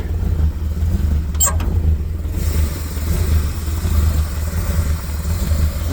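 A 1970 Dodge D100 truck engine idles steadily with a low, lumpy rumble from an untuned carburetor, a brief high-pitched squeak cutting through early on; no voices.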